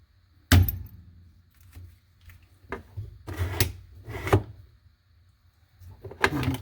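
The heater box door of a 1979 Fiat Spider 124 swings open and shut, making a sharp close clunk followed by a few softer knocks and rubbing thuds, with a final clatter near the end.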